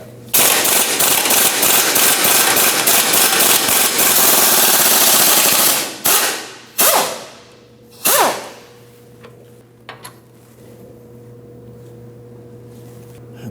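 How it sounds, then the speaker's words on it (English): An impact gun removing a bolt from a sway bar link on a 2009-2017 Audi Q5, hammering loud and close in a continuous rattling burst for about six seconds, followed by a few short bursts and faint clinks. "we can use an impact gun to take it off."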